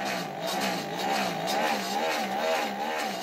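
A homemade roller machine runs loudly with a steady, motorcycle-like engine drone, its pitch wavering in a regular cyclic rhythm, close and continuous throughout with no talk.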